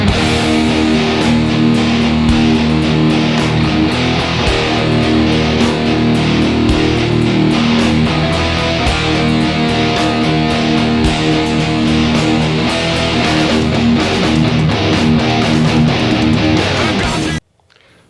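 A distorted electric guitar plays a riff, dense and loud with driving picked notes on low strings for the whole passage before stopping abruptly near the end.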